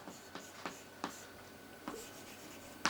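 Chalk or marker taps and scratches on a board as an accounting entry is worked out, a handful of short strokes over a steady hiss, with no talking.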